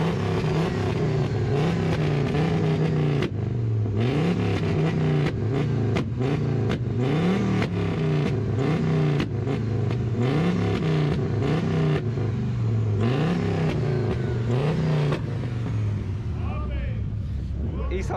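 A loud old diesel Audi revving hard at a Latvian car meet loudness contest, the engine climbing and falling in repeated rising pulls, with people talking over it.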